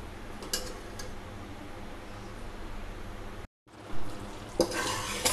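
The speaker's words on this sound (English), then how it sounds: "Now we have to boil the sugar for 3 to 4 minutes along with the saffron milk." Sugar and saffron milk boiling into syrup in a pan, a continuous soft bubbling sizzle with a few light clinks of a utensil against the pan, briefly dropping out before resuming.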